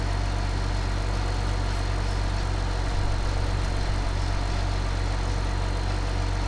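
A tractor pulling a mower in Farming Simulator 2015 drones with a steady, loud, continuous engine hum and no breaks, with no talking over it.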